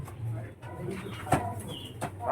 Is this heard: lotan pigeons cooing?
yes